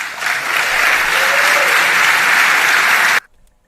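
A large audience claps and cheers in a sustained burst of applause, loud and dense, then cuts off abruptly into near silence.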